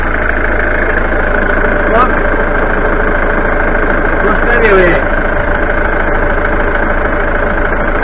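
A 1989-90 Ford Fiesta Ghia engine, left standing since 2014, runs at a steady, loud idle with a constant mechanical drone and faint knocking, close by and with no voices over it.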